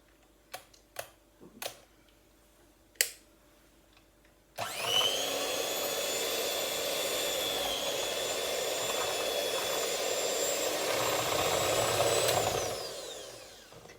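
Marble cake batter mixed with an electric mixer that starts after a few light clicks and knocks, then whirs steadily and loudly for about eight seconds before winding down.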